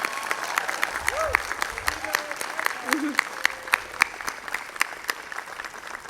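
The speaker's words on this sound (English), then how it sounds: "Everyone at MECOP should get a round of applause for the overnight transformation that they pulled off" Audience applauding at a community celebration night in Oaxaca, a steady wash of many hands clapping with sharp individual claps standing out, plus a few faint voices and whoops in the crowd.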